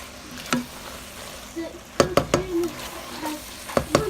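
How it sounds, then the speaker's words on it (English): Spaghetti sauce and half-and-half sizzle with pasta in a pan, a steady fry broken by several sharp scrapes and clacks as the mix is stirred, close by and with no talking. "And now you can hear that sizzling with the half and half and the spaghetti sauce."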